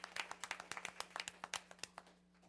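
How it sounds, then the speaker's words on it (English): Scattered hand clapping from a small group at a board meeting, a light patter of claps that thins out and fades over a couple of seconds, with a low steady hum underneath. "Let's give this young lady a round of applause."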